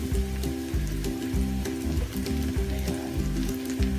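Round-sliced onions go into a pan of frying tilapia steak, setting off a busy, crackling sizzle that keeps up steadily, with a faint rhythmic background sound underneath.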